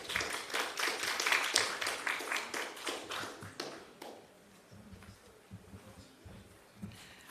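Conference audience applauding presenters at a health research gathering, a dense burst of clapping that swells, then thins into scattered claps with shuffling before a few last isolated claps.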